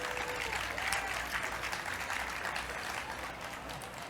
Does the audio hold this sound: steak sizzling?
no